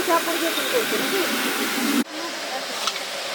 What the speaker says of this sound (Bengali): আমড়ার চাটনি বানাবো তো ওই জন্য জলটা ফুটতে দিয়েছিলাম